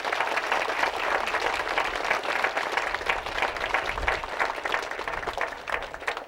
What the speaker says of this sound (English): please give them an applause as I mention them